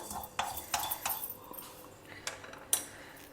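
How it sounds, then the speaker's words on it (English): Mustard seeds dry roast in a hot pan with no oil for a South Indian meal, giving a faint run of sharp clinks and light taps as the seeds hit and skitter on the metal, spaced irregularly. "just take half a teaspoon of mustard seeds in a hot pan and dry roast it"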